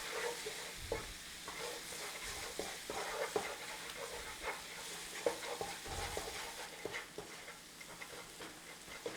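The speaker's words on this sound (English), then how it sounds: "Bloom out your spices in that oil." Whole spices for a chicken dhansak curry fry and sizzle steadily in hot oil over a low-to-medium flame, with soft stirring scrapes and small crackles running through the whole stretch.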